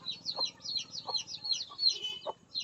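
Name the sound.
chicken with infectious coryza clucking during eye cleaning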